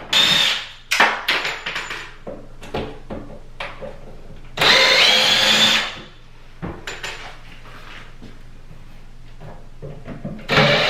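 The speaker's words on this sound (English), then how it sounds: "we're going to just go ahead and use our drill and remove those screws" Bursts of a power drill whirring on and off in short pulses, with one longer sustained run in the middle, close by and fairly loud, as it removes mounting screws from a medicine cabinet.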